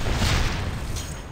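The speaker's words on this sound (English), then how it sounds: "Explosions." Explosions in the video game Tera, a loud, dense burst of booming blasts that fills the short moment, close and forceful with no talking over it.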